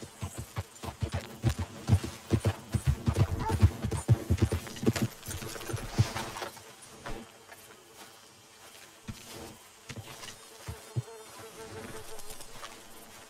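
Horse hooves in Red Dead Redemption 2: rhythmic clip-clop of a horse's steps, close and distinct, strong at first then thinning to scattered hoofbeats over a low game ambience with buzzing insects, no talking.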